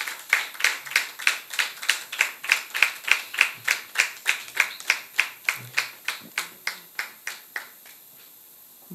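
An audience claps to welcome a doctor guest onto a French talk show, with even, rhythmic claps that keep a steady beat and slowly thin out and fade near the end.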